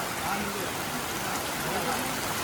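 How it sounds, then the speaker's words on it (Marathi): Heavy rain pours down in a dense, unbroken roar, close and loud, with a steady wash of drops filling the whole short stretch and no pauses. "पाऊस डेंजर पडतोय बघा ना डेंजर पाऊस पडतोय एकदम"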